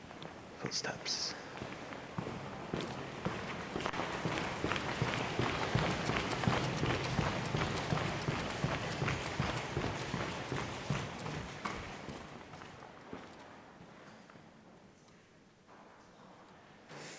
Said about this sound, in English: Thought I heard footsteps, but it's just water hitting this metal.